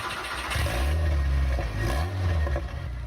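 A KTM car engine starting up in the racing game Driving Empire: a crank and catch into a steady mid-pitched idle that swells with a couple of blips, heard alone and fairly quiet.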